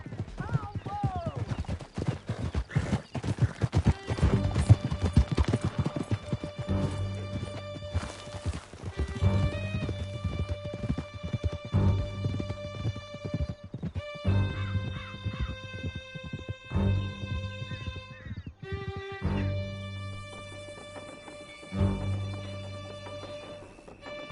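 Horses galloping in Red Dead Redemption 2 during a canyon chase, rapid hoof clatter mixed under loud orchestral music and shouted talk.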